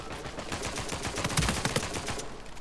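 AK-47 automatic fire in Uncharted: The Lost Legacy multiplayer: loud, rapid bursts that run almost continuously, with a heavier cluster of shots near the middle and no voices.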